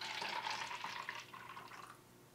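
Carbonated milk poured into a container, a soft gurgling splash that fades over a couple of seconds, fairly quiet and close.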